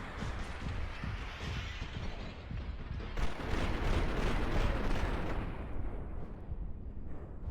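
Sustained gunfire and booming impacts in the Max Payne 3 video game, a dense rumbling barrage that swells midway and then thins out, loud and continuous with no voices.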